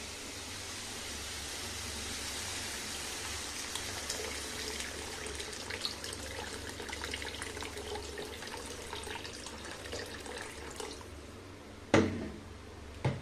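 Water poured and splashing into a pot of cooking vegetable curry with pitha dumplings and chickpeas, a steady running hiss with a couple of sharper clatters near the end, no talk.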